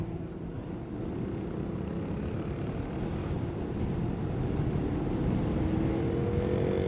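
KTM Duke motorcycle fitted with an Akrapovic exhaust riding on a road in Thailand, a continuous low engine drone with wind rush, building slightly louder toward the end, no talking.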